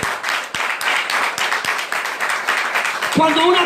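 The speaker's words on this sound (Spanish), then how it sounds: "Aplaudirle fuerte a papá en el nombre de Jesús." A church congregation claps loudly during a sermon service, fast continuous clapping and applause with a few sharper claps standing out, a preacher's voice running over it.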